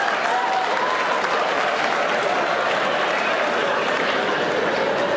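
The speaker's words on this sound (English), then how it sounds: "someone was clapping real hard" Audience applause and clapping at a stand-up comedy show, a steady, loud, dense roar of clapping from a large crowd that holds evenly throughout without pause.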